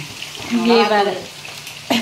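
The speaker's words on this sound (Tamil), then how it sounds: "இது வந்து நல்லா ஃப்ரை ஆகிட்டு இருக்குது." Spinach stir-fry frying in a pan, a close, short burst of sizzling that swells and fades, with a voice briefly heard and a sharp clatter near the end.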